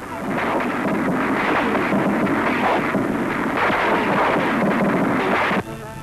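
Heavy, continuous artillery shelling from archival wartime footage during the assault on the walled city on Dufferin Hill at Mandalay, a dense rumbling barrage of blasts that stays loud throughout and drops off sharply near the end.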